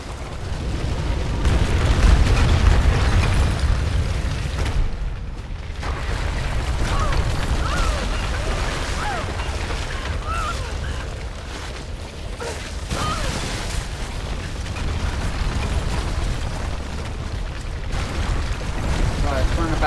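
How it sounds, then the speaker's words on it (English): Explosion and falling rubble in the video game Tomb Raider (2013): a sustained heavy rumble and roar with crumbling debris and scattered bursts, loud and continuous throughout. "that explosion"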